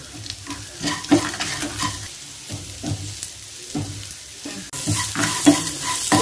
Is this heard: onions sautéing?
yes